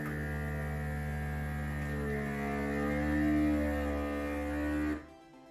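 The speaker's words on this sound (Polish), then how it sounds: "Powietrze zostało wyssane, automatycznie maszyna zacznie zgrzewać woreczek" A Silver Crest SV125A1 vacuum sealer pumps air out of a plastic bag with a steady, close droning hum that swells slightly midway, then cuts off abruptly near the end.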